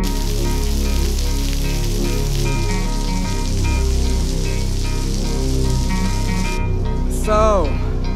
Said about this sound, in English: the rain is getting harder.